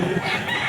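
Fighting cocks at a pet market crowing and clucking close by, a dense, steady burst of bird calls filling the whole short moment with no speech.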